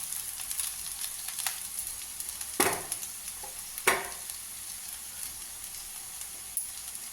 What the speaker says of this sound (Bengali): এবার এটা একসাথে মিশিয়ে দেবো ভালো করে